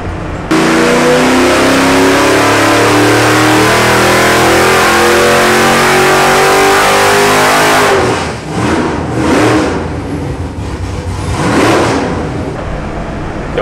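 A Nelson Racing Engines Chevy LS 496 cubic-inch (8.1L) X-Ram V8 rated near 690 hp roars loudly on a dyno, holding a hard, sustained pull before the revs drop and surge again in uneven bursts.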